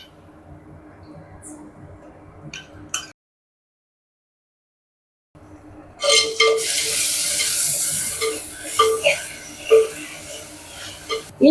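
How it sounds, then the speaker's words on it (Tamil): Ginger garlic paste fries in a pan for a chicken dish, a quiet low background that cuts out for about two seconds, then a loud bright sizzle with stirring scrapes and clinks close by; a voice is faintly present. "இப்போ இஞ்சி பூண்டு பேஸ்ட் போட்டுக்கலாம்"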